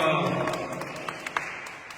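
Applause from a church gathering at a Catholic retreat, a loud spread of clapping at the start that thins out and fades, with a few sharper isolated claps toward the end.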